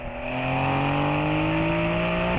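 A 2023 Porsche 911 Carrera T with a twin-turbo flat-six accelerates hard, its engine note climbing steadily in pitch as it revs up, loud and close from inside the car.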